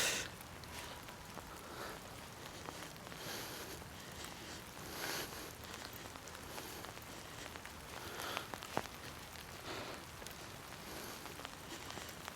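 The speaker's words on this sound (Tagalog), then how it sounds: "Lakas na ng ulan." Rain falls outdoors in a steady, hissing patter with scattered drop impacts, fairly soft and continuous, and no talk over it.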